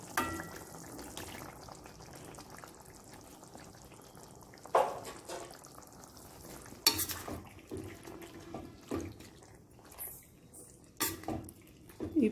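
Pasta tipped into tomato puree in a pan on the stove, with soft stirring, scraping and clinking of utensil against pan and a few louder knocks, alone without talk.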